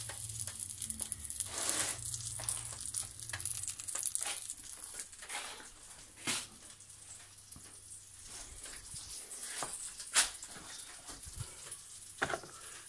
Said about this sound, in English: then you put it in the frying pan